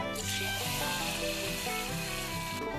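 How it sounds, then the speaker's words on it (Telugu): Hot tempering for gongura dal tipped into the cooked lentils, giving a loud, steady, close sizzle that fills the whole moment with crackling frying noise and no talk. "తాలింపు అయితే అయిపోయింది ఫ్రెండ్స్. ఇప్పుడు మనం ఇందాక రెడీ చేసి పెట్టుకున్న పప్పులోకి అయితే వేసుకుందాం"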